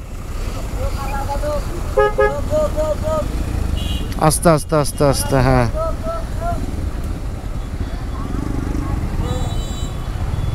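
A roadside traffic jam stretching over a kilometre on the way to Inani beach, with a burst of close car horns and motorcycle toots over idling engines while someone talks through it.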